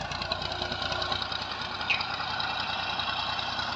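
An old Massey 240 tractor with a big 54 rotavator attached runs at a steady idle, a continuous close engine rumble with a faint knocking texture and no talk.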